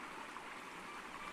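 Water in a stream runs in Snowdrop Valley with a continuous soft rushing babble, steady and fairly faint, with no other sounds.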